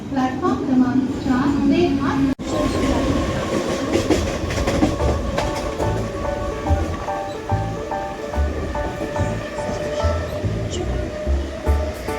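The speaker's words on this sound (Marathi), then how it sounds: "ट्रेन आली आहे मित्रांनो. ही ट्रेन हार्बर लाईनवरून CSTला जाणार." A Mumbai harbour line local train rolls into the station with steady clattering wheels and rumbling carriages, people talking nearby over the rhythmic clack of the rails.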